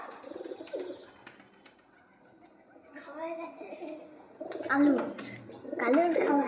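Pet pigeons coo indoors, with soft bubbling calls that grow louder and more frequent toward the end, over a constant high electrical whine, while people talk nearby.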